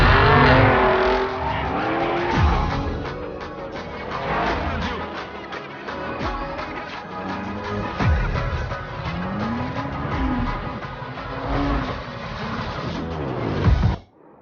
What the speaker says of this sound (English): there is no better car to explore it than the stunning AMG Project One Forza Edition